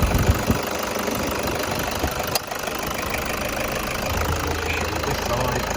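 A 2016 Toyota Hilux 2.5 D4-D diesel pickup idles with its bonnet open, a close, steady, clattering knock that holds an even level throughout.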